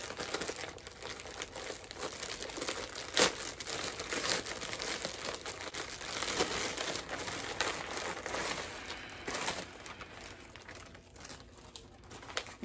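Plastic wig packaging being handled and crinkled, a steady close rustling and crackling with a few sharper crinkles, no talking.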